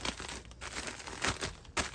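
A padded envelope crinkling and rustling in the hands while an order is packed, close and continuous with a few sharper crumples, no voices.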